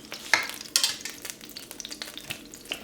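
Mushrooms going into a pan of hot olive oil and butter drippings give off a close, crackling sizzle with irregular sharp spatters and a few louder pops, no voices.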